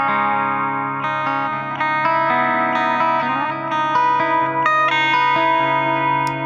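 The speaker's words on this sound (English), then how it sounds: "Got a nice compressed clean here." Electric guitar playing a sustained, compressed clean tone on the bridge pickup through a Toneforge Misha Mansoor amp preset, with ringing chords and single notes that carry a chorus-like shimmer and reverb.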